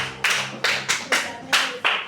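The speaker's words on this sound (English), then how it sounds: "Clap for her, please." A classroom of students claps for a classmate in six short, evenly spaced bursts of rhythmic group clapping, each sharp at the start and quickly dying away.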